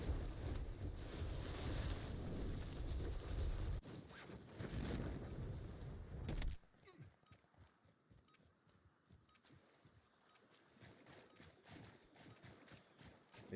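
Ocean waves wash against a shoreline on the Caldera map of Warzone Pacific, in a loud, continuous roar with heavy wind-like hiss that cuts off abruptly, leaving a much quieter, softer lapping of water.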